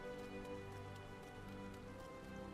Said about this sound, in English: Oh, see, now there's rain.